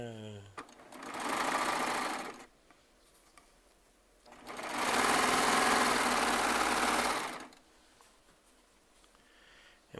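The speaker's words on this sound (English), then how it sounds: "I am sewing charm squares together" A Baby Lock Triumph serger sews charm squares together in two bursts, each a close, loud, fast mechanical whir lasting a couple of seconds, separated by quiet pauses.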